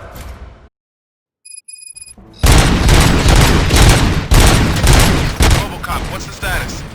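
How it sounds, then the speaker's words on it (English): Gunfire erupts in the RoboCop Rogue City video game, a loud, dense burst of rapid shots and booms. It follows a short silence broken by faint electronic beeps and continues steadily at close range. "Gunshots?"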